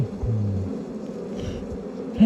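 A short, close buzz of honey bees droning in the air at a wild hive, strongest at the start, then fading into a low hum.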